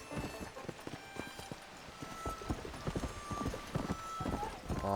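Horse hooves clip-clop in Red Dead Redemption as the horse climbs a hill, a quick, fairly even run of close hoof thuds with someone talking over them.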